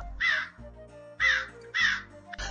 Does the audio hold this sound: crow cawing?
yes